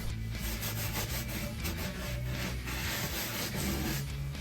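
A cloth rubs Danish oil onto scrap wood for a hall seat, a steady close soft scrubbing with a faint rhythmic back-and-forth swish, nothing else heard.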